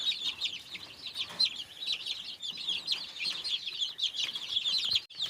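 Chicks cluck and peep continuously, a busy chorus of small high calls close by, with no talking.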